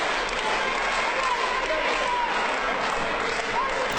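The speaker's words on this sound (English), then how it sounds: "Crowd getting behind El Generico for that support." A wrestling crowd at an El Generico versus Kevin Steen match cheers and applauds in a steady, dense roar that fills the whole stretch, with a commentator's voice over it.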